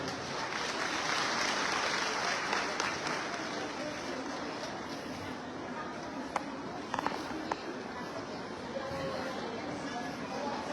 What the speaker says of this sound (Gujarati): મિત્રો આપણે સૌ એમને તાળીઓથી વધાવશું.